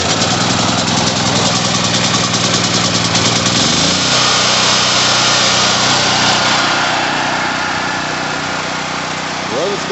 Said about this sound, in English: Runs good.